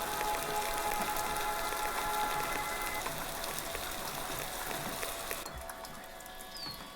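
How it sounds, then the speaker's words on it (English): Rain sounds processed with resonators in music software give a dense, steady patter laced with sustained ringing tones, which drops to a thinner, quieter texture near the end. "the most distinctive processing is the use of resonators on the rain"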